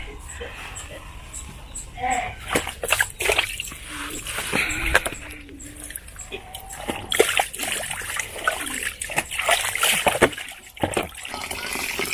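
Water splashes and sloshes repeatedly in uneven bursts, close by, while a person talks intermittently over it.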